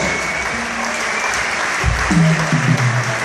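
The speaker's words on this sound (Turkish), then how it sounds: "Selma sana diyoruz, alkışlarınız onun için olsun." Concert audience applauding at a show in Germany, a steady wash of clapping throughout, with a low sustained instrumental tone entering near the end.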